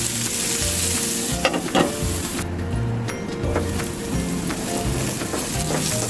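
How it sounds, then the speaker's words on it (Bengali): Bitter gourd stir-frying in a pan gives a loud, continuous close sizzle, with brisk stirring strokes scraping through it and a brief lull partway before the frying noise swells again. "ঢাকনাটা খুলে মাঝে একটু নেড়ে দিবেন"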